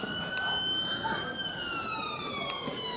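An ambulance siren sweeps up and down close by on a Cleveleys street, its wailing tones sliding steadily over a dense wash of traffic and street noise.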